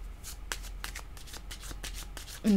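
A deck of cards is riffle-shuffled close by, giving a quick run of crisp fluttering bursts that ends with a brief louder tone.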